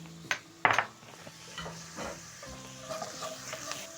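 Vegetable fried rice with black pepper stirred in a pan: a couple of sharp utensil clanks at the start, then quiet scraping and low sizzling.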